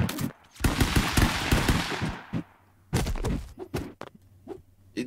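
Black hole gun firing in the stick-figure fighting game Stick Fight, a burst of rapid, loud crackling shots followed by a gap, then a few scattered sharp hits.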